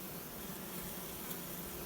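Honey bees buzz steadily around a breeder queen cage with her attendant nurse bees, a dense, continuous hum close by with no talking.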